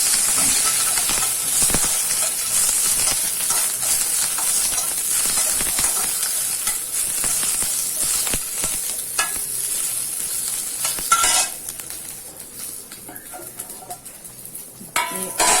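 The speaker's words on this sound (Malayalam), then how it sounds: "ഇളക്കി കൊടുക്കാം" Kerala sambar stirred in a pot for an Onam sadhya, with a loud, steady hiss and sizzle plus scraping and clinking of the spoon against the pot, close and unaccompanied by talk.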